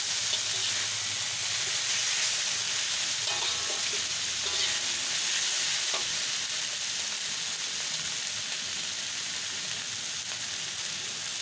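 Mamak mee goreng noodles stir-fry in a hot pan, giving a steady loud sizzle and hiss that runs throughout, with a few faint clinks of stirring and no voices.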